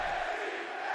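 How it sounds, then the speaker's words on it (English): A dense, roaring arena crowd at a wrestling event, a broad sustained wash of voices held steady for under a second. "this crowd chants for NXT"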